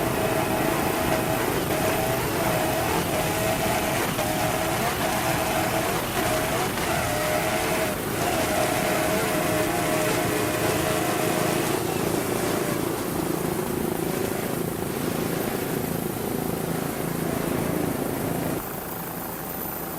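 Racing offshore powerboat engines throttle steadily across the whole stretch, a loud continuous droning roar that holds near and constant, with commentary talk running over it.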